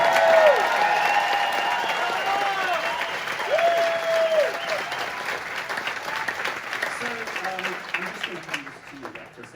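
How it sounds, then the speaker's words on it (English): A theatre audience at a Les Misérables 40th anniversary gala applauds the production team with sustained, full-house clapping and some cheering, while voices and sung or spoken tones rise over it at first and the applause gradually thins. "Let's have a big applause for this amazing team of people."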